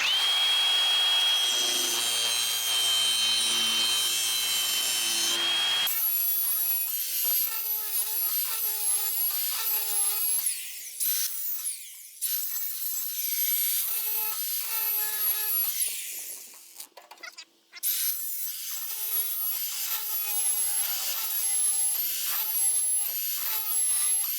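Grinding and filing passes on the blade edge of a DR brush mower, a steady loud rasp that breaks into repeated strokes with brief pauses between them.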